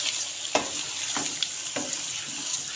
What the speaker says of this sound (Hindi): मसालों को हम ऐसे करके भून लेंगे